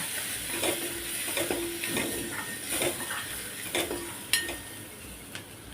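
A spoon scraping and stirring onion-garlic masala with coriander powder in a hot pan, repeated clinks and scrapes over a steady soft sizzle of frying, close and fairly quiet with no talking.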